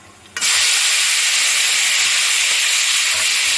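Pineapple pieces drop into hot oil tempered with mustard seeds and dried red chili, setting off a sudden loud, steady sizzle that holds without a break to the end.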